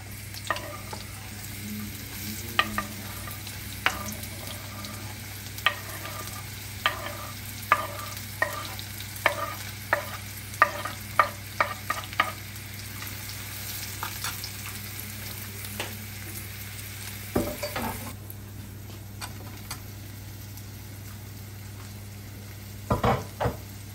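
Garlic frying in a pan, a low, steady sizzle under a constant background hum, broken by a scattering of sharp stirring scrapes and taps that cluster toward the middle of the stretch.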